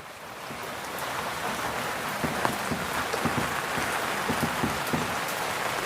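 Steady rain patters on a surface outdoors during an outdoor baking session, a constant broadband wash with scattered louder drops, moderately close and without talk.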